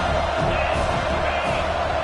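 Roaring stadium crowd at a football game, a dense, loud, continuous wall of cheering and shouting with no break.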